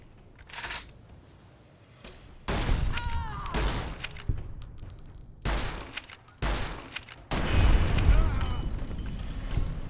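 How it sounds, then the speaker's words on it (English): Gunfire in Fallout New Vegas comes as bursts of sharp shots and rattling volleys separated by pauses, with clinking and impact noises in between, loud and close. "Because I did miss a couple of shots."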